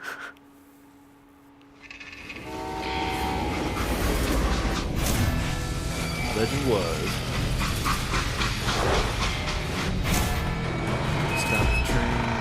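A steam train from the Western shooter game Call of Juarez: Gunslinger rumbles and clatters along the rails after a quiet start, a steady loud mechanical rush with metallic squeals, while someone speaks briefly over it.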